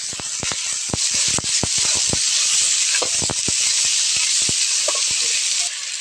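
Potatoes fry in hot oil with a loud, steady sizzle and hiss, broken by many sharp crackles and pops throughout.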